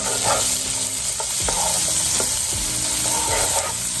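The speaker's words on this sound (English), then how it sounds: "Now we're going to go in with our regular onions. You don't want to cook them until they turn brown." Carrots and onions sautéing in melted butter in a pan, a steady loud sizzle with intermittent scraping stirs running throughout.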